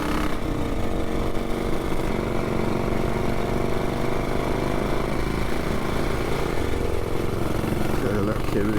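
Engine of a classic BSA motorcycle running steadily nearby, a continuous rough buzzing drone with a gruff low rumble, loud throughout and heard without clear talk.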